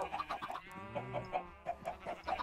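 Chickens in Minecraft give a run of short, repeated clucks and squawks at a fairly quiet level, bunched in quick bursts with no speech over them.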